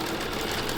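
A sewing machine stitches a seam across a quilt block, a brief steady mechanical whir with a fast even needle rhythm, close and alone.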